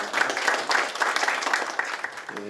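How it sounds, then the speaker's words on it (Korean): A crowd at a public forum applauds steadily, a dense wash of clapping that holds at an even level throughout. "큰 박수 부탁드립니다"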